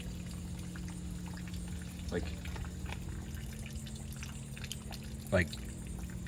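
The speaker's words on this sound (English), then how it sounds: "you hear running water." Running water in an abandoned, closed-off hotel makes a steady low wash throughout, with a brief person's voice over it.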